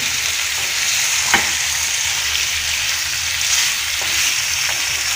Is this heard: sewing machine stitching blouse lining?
no